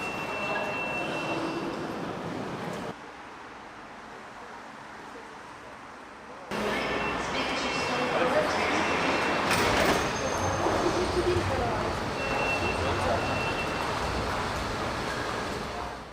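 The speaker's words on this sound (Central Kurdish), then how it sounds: "شوێنەکەشم شوێنێکی عامە محەتەیەکی قیتارە زۆر قەڵەباڵغی و زیحامی بەسەرەوەیە" A busy, crowded train station, with a train's rumble and the clatter of rail cars, a quieter lull midway, then a louder surge of rolling noise and squeals, with faint voices in the background.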